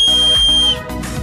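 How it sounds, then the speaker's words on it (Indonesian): A shrill, steady tone from an emergency-kit whistle rings out loud for under a second, then cuts off, leaving a faint rumble behind. "barang yang penting itu adalah peluit"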